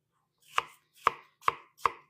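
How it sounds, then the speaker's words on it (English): A knife chopping apples on a cutting board, four crisp, evenly spaced thunks close to the mic with near silence between strokes. "almost done chopping these guys up"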